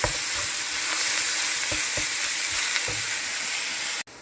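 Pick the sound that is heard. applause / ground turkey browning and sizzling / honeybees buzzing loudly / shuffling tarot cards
ground turkey browning and sizzling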